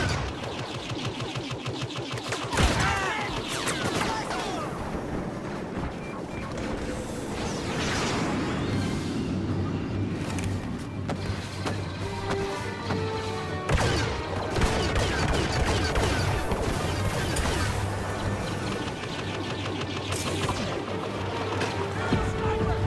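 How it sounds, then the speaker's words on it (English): Star Wars Battlefront Walker Assault battle with Y-Wing bombers making an attack run: a continuous dense barrage of blaster fire, explosions and whooshes, loud and sustained, under game music and occasional voices. "Y-Wing bombers are setting up for their attack run."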